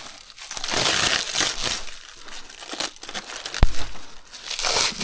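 Body scissors snip and crunch through stiff plastic packaging close up, with crinkling and crushing bursts spread across the clip and one sharp snap partway through.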